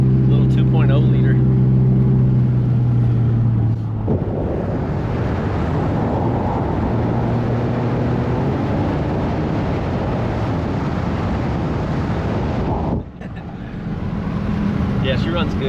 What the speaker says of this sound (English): it's got that nice Subaru rumble